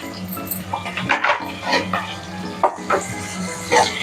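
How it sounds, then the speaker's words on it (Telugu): Onions and curry leaves fry in a pan for chicken curry, with a steady close sizzle broken by repeated scraping stirs of a spoon. "ఆనియన్స్ లైట్ బ్రౌన్ కలర్ వచ్చేంత వరకు కొంచెం వేయించుకొని ఇందులో కొంచెం కరివేపాకు కూడా వేసుకుందాం."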